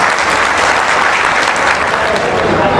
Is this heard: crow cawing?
no